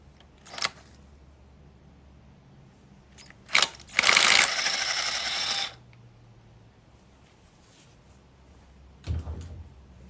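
Ratchet loosening a T30 screw on the ignition coil area of a VW Golf Polo Mk6 engine, heard as a few sharp isolated clicks followed by a burst of rapid ratcheting that lasts about a second and a half, with no talk.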